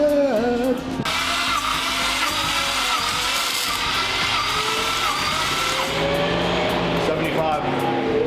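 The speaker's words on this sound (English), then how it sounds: "I'm just wondering why it's cranking so slow." A 1949 Ford engine cranks slowly and steadily on the starter during a compression test, a continuous loud churning whir, with people talking over it.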